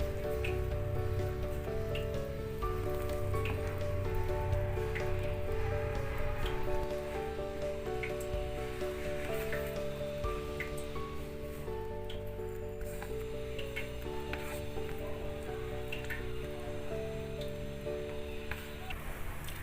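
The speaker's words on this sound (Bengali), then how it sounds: "এবারে আমি এই নুন দিয়ে ফেটানো মটর ডালটা অল্প অল্প করে দিয়ে দিচ্ছি" Salted, beaten pea-lentil batter is dropped bit by bit into boiling poppy-seed water, giving a continuous close bubbling and spattering hiss. Soft background music plays throughout.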